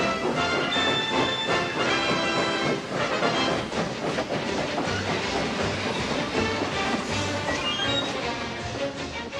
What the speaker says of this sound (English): Soon Gorford was coupled up to Salvador, and the strange train began once again